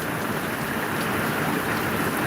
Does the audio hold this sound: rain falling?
yes